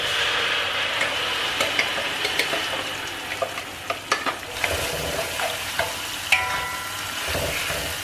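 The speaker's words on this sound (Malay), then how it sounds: "mula-mula sekali kita masukkan black pepper, jintan manis dan juga halba. So, kita kacau." Black pepper, fennel and fenugreek seeds frying in a pan for asam pedas, stirred with a utensil; a steady sizzle under repeated scraping and clinking strokes, with a louder stretch of stirring near the end.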